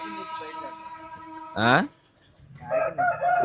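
A rooster crows loudly close by after some talking, followed by clucking hens as a voice continues speaking.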